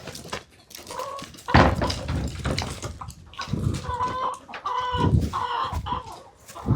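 A flock of chickens clucks and squawks nearby in irregular bursts, with a few louder calls standing out. No one speaks.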